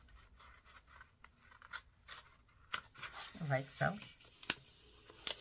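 Paper rustles and creases as an upcycled book page is folded in half toward the gutter, with close crinkling and scraping that builds to a sharp crease. A voice briefly speaks partway through.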